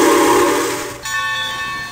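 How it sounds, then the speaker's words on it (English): A Nathan 6-chime train horn sounds in a steady, loud chord that fades partway through, then resumes as a hissing blast with clear layered tones. "whistle's actually not that bad. It's a Nathan 6 chime from like long time ago."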